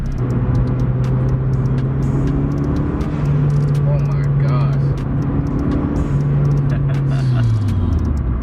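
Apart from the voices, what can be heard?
turbocharged car engine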